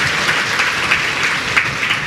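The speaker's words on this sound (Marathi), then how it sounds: "का परत एकदा टाळ्या वाजा त्यांच्यासाठी" A seated crowd at a religious satsang claps loudly and continuously for a revered guru, a thick, even wash of applause with no voices.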